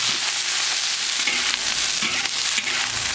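Pig tails and pork stomach stir-fry in hot oil in a smoking wok, giving a loud, steady sizzle broken by scraping stirs and clattering tosses.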